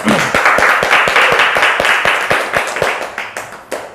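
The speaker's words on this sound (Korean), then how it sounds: "그럼 우리 한번 박수로 한번 시작을 해볼까요?" A group in an economics study class claps together to open the session, sharp hand claps falling in a fairly steady rhythm over a sustained patter, close and loud for about four seconds.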